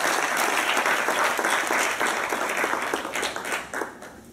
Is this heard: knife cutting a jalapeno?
no